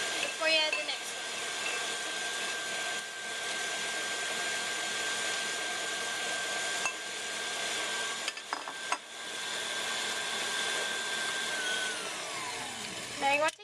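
An electric stand mixer beats chocolate cupcake batter with a steady, fairly quiet whirring drone for several seconds, broken by a few brief clinks and bumps.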